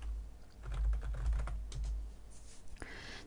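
Fingers type on a computer keyboard in a short, uneven burst of soft key taps, close and quiet, ending with a sharper click, with a low hum underneath and no speech.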